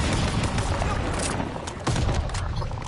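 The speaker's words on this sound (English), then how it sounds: "Watch it, grenade!" Constant crackling gunfire in the shooter game Call of Duty Vanguard, with a sharper burst partway through that could be a grenade blast, and shouting voices in the mix.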